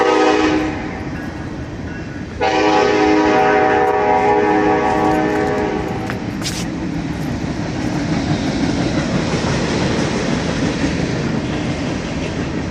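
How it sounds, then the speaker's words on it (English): A train rumbles past near an abandoned waste treatment site, a loud, sustained roar with a long blaring horn blast partway through and a rushing clatter of wagons that continues to the end. "train going past."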